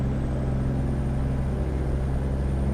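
Steady, continuous engine drone of a heavy truck driving in a trucking video game, a low constant rumble with no talk over it.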